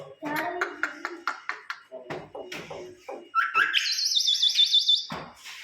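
A pet myna bird calls close by in a home, giving a series of short chirps and squawky vocal bursts, then a sustained warbling, whistle-like trill, with a person talking around it.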